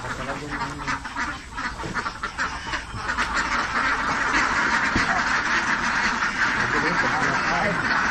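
A flock of laying ducks quacks continuously, a dense, loud chorus of overlapping quacks close by, with someone speaking over the noise early on.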